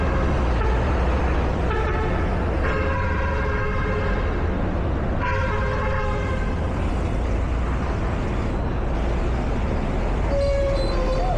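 A train passes close by, sounding its horn in several long blasts over a constant low rumble of traffic and rolling wheels.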